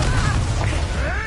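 A Confringo blasting spell explodes during combat in Hogwarts Legacy, a loud booming burst with rumbling low end and whooshing magical tones over continuous battle noise.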